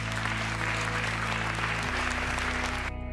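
Graduates applaud themselves at a ceremony with continuous, even clapping over a low electrical hum, and the sound cuts off abruptly near the end.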